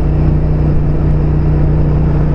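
A powerful motorcycle engine drones steadily and loudly at close range, holding a constant low hum with no talking.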